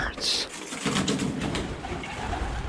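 Pigeons coo and flutter inside an abandoned 1920s Victorian school, soft throaty calls close by, mixed with a person's voice speaking over them.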